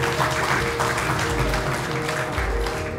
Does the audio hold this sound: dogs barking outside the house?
no